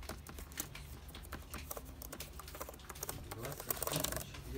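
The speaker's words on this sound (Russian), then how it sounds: "Мы сейчас проверим быстренько клавиатуру." A computer keyboard being tested on a keyboard-testing website, its keys tapped in quick, uneven bursts of sharp clicks for several seconds, close and fairly soft against a faint background murmur.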